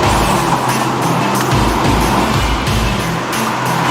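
Tuned 2020 Honda Civic FC 1.8S pushed hard on a Malaysian mountain road to Genting, with loud continuous engine and road roar heard from inside and a rhythmic surge in the noise.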